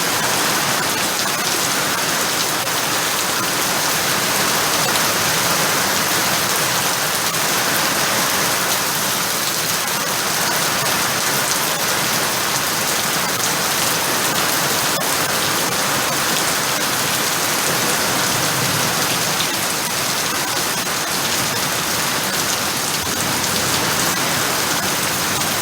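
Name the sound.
heavy rain falling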